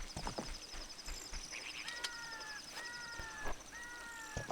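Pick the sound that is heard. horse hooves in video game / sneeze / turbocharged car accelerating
horse hooves in video game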